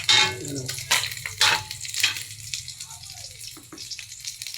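Pork fat sizzling and rendering into oil in a hot pan, a loud hiss in bursts with stirring scrapes; a voice talks faintly in places.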